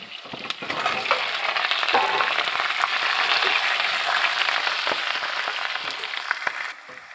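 Potatoes tipped into a wok of nearly fried onions sizzle loudly and steadily, close by, with a few small clinks of stirring and no talking.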